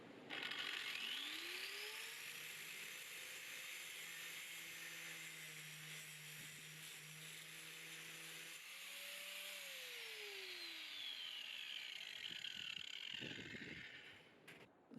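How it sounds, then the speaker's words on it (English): A powered tool whirring steadily for a long run, its pitch rising at the start and shifting midway before spinning down, as a nut is wound off a bolt to clean its threads during a Subaru Legacy gear linkage repair; no voices. "I've wound the nut off over the bolt, which has cleaned the threads up."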